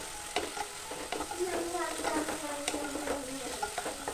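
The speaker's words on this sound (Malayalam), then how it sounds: "പഴം നെയ്യിൽ വളയിപ്പിച്ചെടുക്കുകയാണ്." Banana pieces sizzle steadily as they are sautéed in ghee for a biscuit-and-banana pudding, with a continuous frying hiss broken by repeated stirring scrapes close by.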